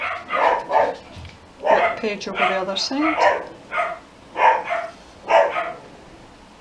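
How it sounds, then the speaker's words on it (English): Household dogs bark in distress as a family member leaves the house, a run of sharp, fairly close barks mixed in with a person talking. "the dogs get distressed when one of us leaves"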